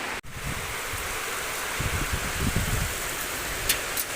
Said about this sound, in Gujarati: કમોસમી વરસાદ વધી ગયો છે અને કેટલો બધો વરસાદ પડી રહ્યો છે